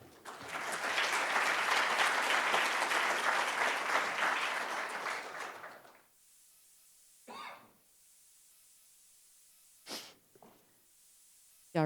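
An audience at a Texas Water Day event at the Capitol gives a panel a round of applause, a dense wash of clapping lasting about six seconds, then fading into quiet with a few faint noises.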